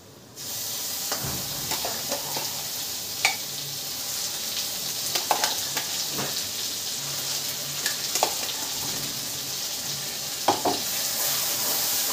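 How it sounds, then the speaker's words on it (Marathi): Ground spice paste with turmeric, coriander powder and red chilli sizzles in hot oil for a potato curry, a steady frying hiss under scattered stirring scrapes and knocks of a spoon, close and continuous, with no talk. "तर वाटण आपण छान असं थोडंसं परतून घेऊ तेलामध्ये."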